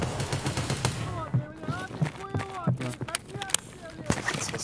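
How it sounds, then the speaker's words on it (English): Gunfire in the shooter Escape from Tarkov, a burst of rapid automatic shots followed by scattered single cracks, sharp and fairly close, under someone talking over voice chat. "Shooting."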